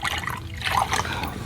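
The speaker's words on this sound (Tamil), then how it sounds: "தண்ணி ஊற்றுறோம்." Water is poured into a dish while cooking, a short soft splashing trickle at modest loudness.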